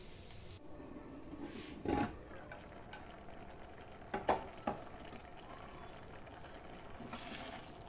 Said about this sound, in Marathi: इथे सुद्धा छानपैकी मसाला उकळलेला आहे